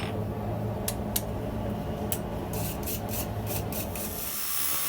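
Edges of a W1 steel scissor blade are ground in a forge shop, producing a steady close rasping scrape with several brief, brighter bursts of grinding contact. No one speaks.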